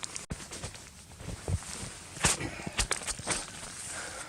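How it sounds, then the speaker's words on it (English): Boots stomping down snow to flatten a tent site on a mountain camping trip, irregular close crunching thuds and scuffs of varying force, one sharp knock near the start. "I'm going to stomp this down more and get the tent set up."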